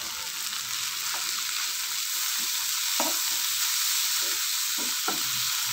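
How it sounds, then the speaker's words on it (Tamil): Tomatoes and onions sauté with turmeric in a pan for Tamil vatha kuzhambu, giving a steady close hiss of frying with occasional soft scrapes of stirring and no talk. "தக்காளி, வெங்காயம் எல்லாமே வதங்கிடுச்சு."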